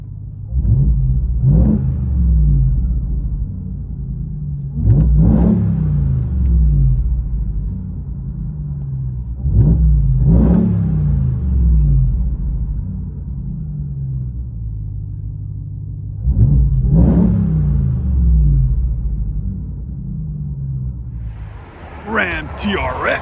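A straight-piped Ram TRX truck engine heard from inside the cab, a deep low rumble at idle broken by about five loud revving surges at steady intervals, with a brief whooshing rise at the very end.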